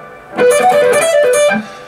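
A distorted electric guitar plays a short solo riff from a song, a quick run of bent and hammered notes, loud and close with no talking.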